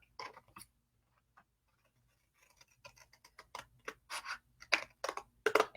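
Scissors cutting a paper puppet face shape, close and quiet, first a couple of isolated snips, then a quickening series of crisp clipping and crinkling sounds.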